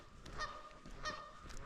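Geese honk in short, harsh bursts, several loud calls spaced across the moment, somewhat distant and heard alone outdoors.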